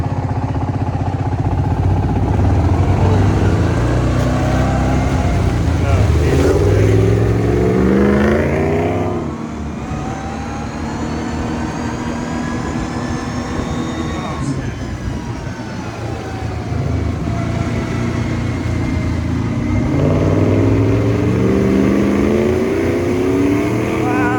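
A Dodge Ram 1500 pickup with a HEMI V8 revs hard while drifting on a ranch, its engine note rising and falling in long sweeping pulls, loud and close, with a brief dip in the middle before climbing again.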